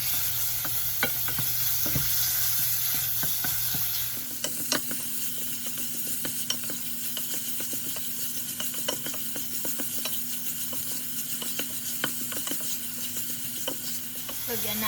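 Minced pork sizzling with sautéed onion and olive oil in a pan for pansit palabok, a constant loud frying hiss broken by repeated scraping stirs and utensil clicks, with a faint tonal hum shifting partway.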